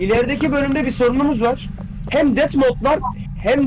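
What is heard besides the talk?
None of the usual background noises is heard.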